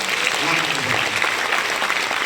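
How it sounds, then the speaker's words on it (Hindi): An audience at an achievers' award event gives a brief burst of applause, a dense continuous patter of clapping with some crowd voices underneath. "तो मैं चाहूंगा श्री लोकुश भाई के लिए एक बार जोरदार तालियां।"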